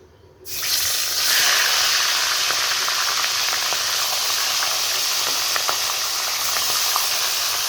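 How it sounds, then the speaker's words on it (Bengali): Fish dropped into hot oil in a heated kadai bursts into a sudden loud sizzle that settles into a steady, close, bubbling hiss throughout, with no talking. "তেলটা গরম হয়ে গেছে এবার আমি মাছগুলো দিয়ে দেবো"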